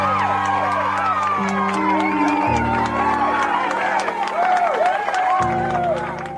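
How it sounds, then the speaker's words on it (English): Airport crowd erupting in cheers as a returning championship hero emerges from the arrival gate, a dense, loud roar of shouts and whoops with scattered clapping and overlapping voices, steady throughout and under low sustained tones. "The crowd erupted."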